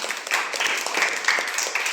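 Audience clapping at a prize-giving for a village uncle-and-nephew entertainment contest: steady, dense applause fills the whole stretch at fairly close range, with no break.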